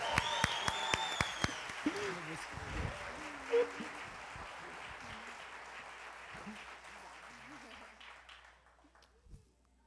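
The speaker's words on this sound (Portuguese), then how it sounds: "Vamos dar uma salva de palmas." Audience applause at a church service, a dense wash of clapping from a crowd that starts loud with a few sharp claps and slowly thins and fades over several seconds, with faint voices mixed in.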